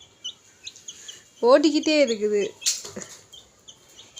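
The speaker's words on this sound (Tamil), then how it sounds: "இந்த கோழி குஞ்சு இதுதான் ஸ்மார்ட்டு." Small chick peeping with short high chirps scattered through the clip, loudest near the start and after the middle, mixed with a person speaking close by and some handling noise.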